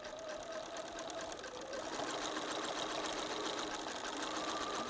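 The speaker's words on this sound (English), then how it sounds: "You just keep quilting away till you get that all done." A sewing machine stitching quilting lines through a handmade vest runs in a steady, continuous whir with a fast rapid-fire rhythm, close and fairly loud throughout.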